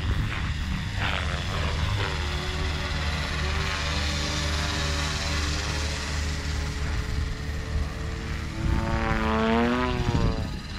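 A Trex 500X RC helicopter flies practice circuits, its rotor and motor producing a steady, loud whine and buzz that rise and fall in pitch as it passes and turns.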